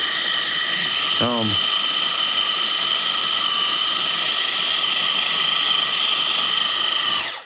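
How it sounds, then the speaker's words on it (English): A new electric stand mixer churning dough on its low setting gives a steady, loud, continuous high-pitched motor whine with rattling, the bowl jumping slightly, running for the whole stretch with a brief clunk near the start. "This is a new mixer. Believe it or not, that's low."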